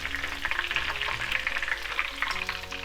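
Japanese menchi katsu cutlets frying in hot oil, a steady dense sizzle and crackle close by, continuous for the whole stretch with no voices.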